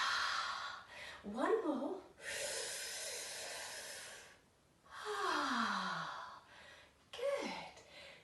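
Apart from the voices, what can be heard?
breathing out during yoga breathing exercise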